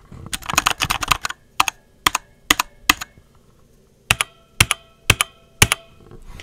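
Typing on a 96% mechanical keyboard, Magegee Sky98, with a hollow-sounding drop shift: a fast burst of clacky keystrokes, then a pause and slower, separated single presses, close and clear with no talking.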